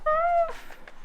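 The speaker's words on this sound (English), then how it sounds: "I say chicken and he starts meowing" A single short, close cat meow, rising slightly and then trailing off.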